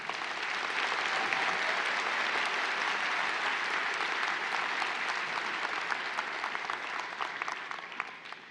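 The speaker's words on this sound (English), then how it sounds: "Let's have a round of applause for these graduates." Steady, dense applause from a commencement audience honoring graduates, loud and sustained throughout with no speech over it.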